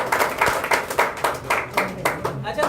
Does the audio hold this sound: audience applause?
yes